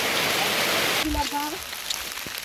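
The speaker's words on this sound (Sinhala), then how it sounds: "ඔන්න මේ වැස්ස ගොඩක් වැඩි කරා" Heavy rain falling on the mountain path to Adam's Peak, a dense hiss of downpour that breaks off sharply partway through, leaving quieter patter under a brief voice.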